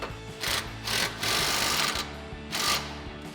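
A power tool snugs down a track bar mounting bolt on a Jeep Wrangler JK during a suspension lift install, firing in four short, loud rattling bursts with brief pauses between.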